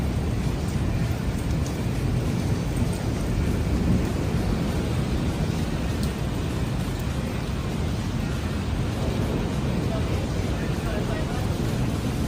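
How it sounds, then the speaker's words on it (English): Heavy thunderstorm with intense, frequent lightning, heard as a continuous loud roar of rain and rumble with no distinct separate thunderclaps. "That's just how much lightning is happening."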